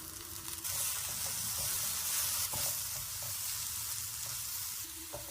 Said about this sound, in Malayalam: പഴം വറുത്തെടുക്കുമ്പോൾ കുറച്ച് പഞ്ചസാര ചേർക്കാം